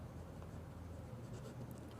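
A pen writes steadily on paper while working a sixth-class maths problem, a continuous soft scratching close by with no talk over it.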